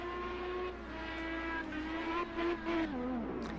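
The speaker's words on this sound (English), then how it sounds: "Listen to the braking there" An IndyCar race car in a video game brakes hard into the Melbourne hairpin. A steady high engine whine drops in pitch through quick downshifts, and brief tire squeal sounds near the end as the rear wheels lock.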